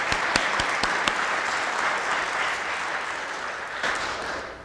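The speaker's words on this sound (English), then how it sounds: "Can we just give them all a round of applause?" An audience at a law symposium gives a round of applause, steady dense clapping with a few sharp individual claps standing out at the start, heard from a moderate distance and fading slightly toward the end.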